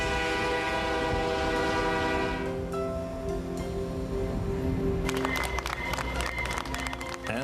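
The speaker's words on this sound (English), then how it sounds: "As Mr. Trudeau's body was taken home to Montreal by train, thousands of Canadians came out to line the tracks" A train passes close by with a long, loud sustained horn blast, then rumbling wheels and rattling railcars dominate as the horn fades.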